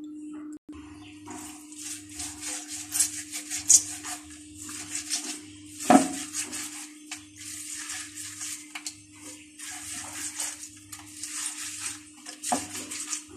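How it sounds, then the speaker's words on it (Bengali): Chela fish from the river being rubbed and washed clean by hand in a bowl, with soft wet scrubbing, splashing and occasional clinks of dishes, close up and fairly quiet beneath a steady low hum. "এভাবে ঘষে ঘষে ধুয়ে নিলেই হয়ে যাবে"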